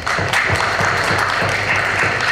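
An audience at a meeting of tobacco farmers claps steadily, a dense, loud, even wash of many hands with no talk over it.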